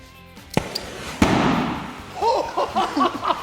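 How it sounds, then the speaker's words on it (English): A sharp bang is followed by a loud burst and a crackling shower, then a flurry of smaller fizzing pops trailing off. "That was an amazing explosion."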